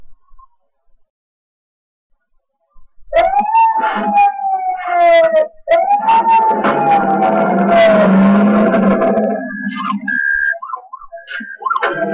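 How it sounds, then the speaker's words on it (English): A police car responding code 3 with lights on through an intersection near the University of Texas at Austin campus. After a few quiet seconds its siren bursts in loud and close, sweeping up and down in a wail among other traffic noise. "She turns on her lights as she's going through an intersection. Her siren we hear."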